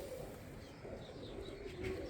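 Pure-bred pigeons of a single colour and breed, kept in long-standing pairs, coo softly in a loft, a faint low murmur under quiet background hiss.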